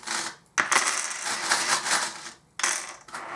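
Small charms cast and dropped onto a surface, clattering in quick metallic bursts with brief pauses between throws, close and fairly loud.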